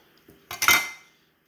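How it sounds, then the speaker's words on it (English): A knife slicing through a ripe avocado to the seed, with a few soft knocks against a board followed by a short bright metallic clink that fades away, heard alone. "And just cut it through the middle, right down to the seed."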